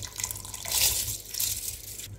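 Uncooked rice is tipped into a pot of boiling water on the stove for homemade fried rice, giving a short, close watery patter and splash with no talk.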